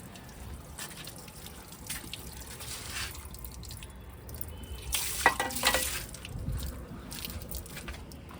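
Water trickles and splashes quietly into a coffee machine's water tank, with a brief louder gush partway through and no talking.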